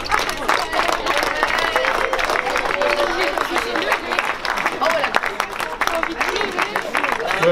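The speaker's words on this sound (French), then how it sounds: "et on peut les applaudir." An audience at an outdoor town festival applauds, a dense wash of clapping mixed with crowd murmur and voices, sustained and fairly close throughout.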